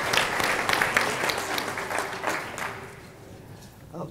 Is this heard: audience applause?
yes